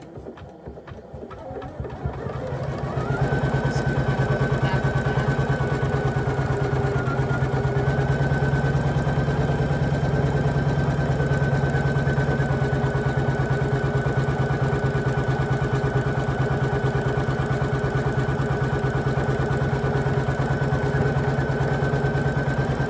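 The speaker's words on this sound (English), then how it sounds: "Now it's going to go down and stitch the wording here." An embroidery machine stitches gold lettering onto a sweatshirt for a Mardi Gras design, a steady loud mechanical whir with a constant pitched hum that builds up after a brief start and runs unbroken, with no talking.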